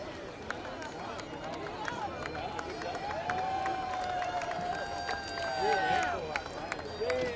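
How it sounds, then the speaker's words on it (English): Parade crowd applauding a healthcare workers union marching in a St. Patrick's Day parade, steady clapping and cheering that swells near the end, with tonal whistles over the crowd. "Certainly deserve the big round of applause that they're getting."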